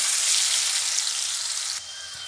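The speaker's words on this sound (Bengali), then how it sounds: "পেঁয়াজটা আমার হালকা ভাজা হয়ে গেছে" Grated onion frying in oil for a spicy puti fish curry, a steady bright sizzle close by that drops somewhat quieter near the end, with no talking.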